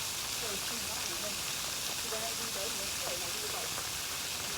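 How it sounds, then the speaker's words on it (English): Steady rain hisses at Chester Zoo, a dense, even wash of drops falling on surfaces with no breaks, moderately loud and close throughout. "Rainy day at Chester Zoo."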